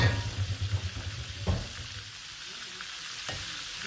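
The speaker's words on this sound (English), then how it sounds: "drop it into the starch and see how it fries up" Starch-coated chicken pieces frying in hot oil, a soft, close sizzle with a few stirring knocks and scrapes, fading to a quieter bubbling; no voices.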